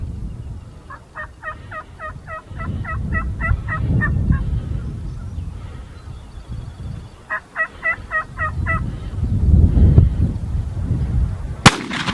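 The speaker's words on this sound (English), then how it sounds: "these 3 birds start gobbling on the ridge" Several wild turkeys gobble on a ridge in two bursts of rapid, rattling calls, moderately distant over low rumbling background noise, with a sharp click near the end.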